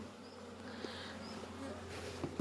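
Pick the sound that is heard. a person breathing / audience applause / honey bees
honey bees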